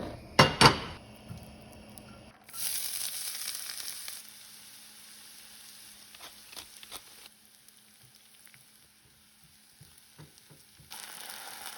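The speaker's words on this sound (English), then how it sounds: "I'm gonna saute some onions and garlic along with it too" Onions and garlic sauté in a hot pan, a steady sizzle that swells after a couple of seconds of clattering pan handling, with occasional utensil knocks and scrapes throughout.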